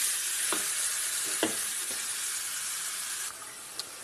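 Catfish pieces hiss and sizzle in a pan for adobo in coconut milk, a steady bright crackle with a few sharp pops near the start and a brief louder spatter.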